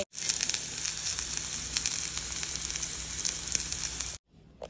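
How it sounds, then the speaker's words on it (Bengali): Fritters sizzle and crackle steadily in hot oil, close and bright, then the sound cuts off abruptly near the end. "আস্তে আস্তে উল্টে পাল্টে একদম সুন্দর করে ভাজা ভাজা করে ভেজে নিব"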